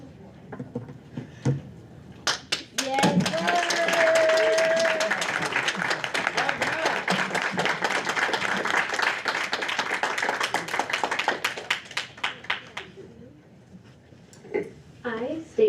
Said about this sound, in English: We're going to clap so soon.